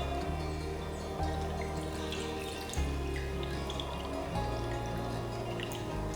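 Liquid pours steadily into a glass for a drink flavored with mint, a continuous splashing trickle up close over a low background hum, with no talking.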